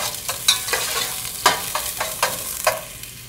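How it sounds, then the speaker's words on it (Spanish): Sliced onion sautéing in a pan for chipotles en adobo, with repeated spatula scrapes and stirs, about seven sharp strokes over a soft sizzle, near and fairly loud with no talk. "Lo que voy a hacer es que voy a sofreír la cebolla."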